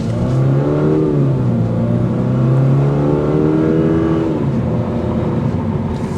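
A 2024 Toyota GR86 Trueno Edition engine revs, climbing steadily in pitch, holding near the top, then dropping back, loud and close with no talking.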